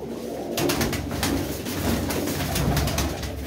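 Pigeons coo loudly and continuously close by, overlapping low throaty calls forming a dense, steady murmur with a few sharper flutters or clicks.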